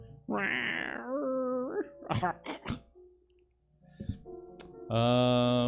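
Several drawn-out, raspy cat meows, close and loud, separated by short clicks and a pause; the cries sound hoarse, almost like coughing.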